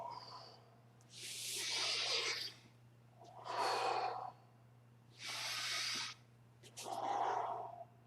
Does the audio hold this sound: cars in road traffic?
no